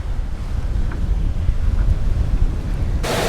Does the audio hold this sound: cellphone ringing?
no